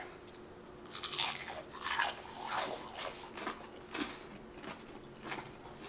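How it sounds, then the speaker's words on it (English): Several crisp, crackly crunches from close-up biting and chewing of fried pickles, coming in quick bursts with short pauses between them. "It's all about that crisp, that crunch."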